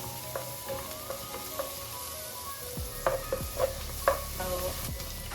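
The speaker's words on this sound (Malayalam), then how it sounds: "അപ്പൊ ഇത് അതിനുശേഷം നമ്മൾ തക്കാളിയും പിന്നെ അതുപോലെ തന്നെ ക്യാരറ്റും ഇട്ട് കൊടുത്തിട്ടുണ്ട് കേട്ടോ. അപ്പൊ അത് നല്ലോണം വഴറ്റിയെടുക്കണം." Carrots and tomatoes sauté in a pan for chicken macaroni, with a soft, steady sizzle broken by occasional scrapes and clinks of a stirring utensil against the pan.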